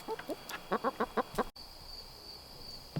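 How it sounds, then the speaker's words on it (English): Three-year-old Rhode Island Red hens cluck in a quick run of short, close notes, then fall quiet as a faint steady hum remains. "There they are, Rhode Island Reds, beautiful, 3 years old."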